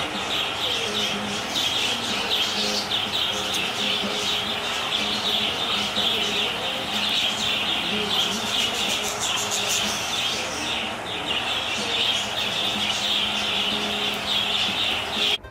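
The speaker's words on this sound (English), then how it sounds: "They also have a large cage of parakeet" Dense, continuous chorus of chirping from a large cage holding over a hundred parakeets at a Florida animal park, steady and loud throughout, with many overlapping calls and faint background murmur.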